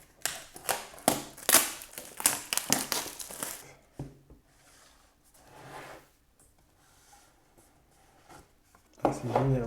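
A small box cutter slicing and tearing open the cardboard packaging of a Flexir Go Mini massage gun, giving brisk scraping and crinkling strokes up close, then quieter rustling and a final loud rip.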